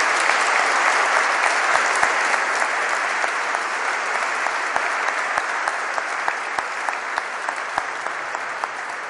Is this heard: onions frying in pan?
no